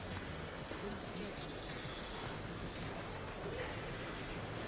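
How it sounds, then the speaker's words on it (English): Cicadas shrill in the background of the Steins;Gate visual novel, a loud, continuous high buzzing drone that holds steady for several seconds with no speech over it. "the cicadas or whatever it is are incredibly loud in my ear"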